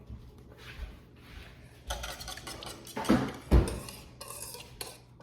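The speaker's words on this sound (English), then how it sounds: "we're going to whisk all this together" Whisking vanilla and other ingredients together in a bowl for honey buns. A utensil clinks and scrapes against the bowl in irregular strokes, with a few sharper knocks near the middle.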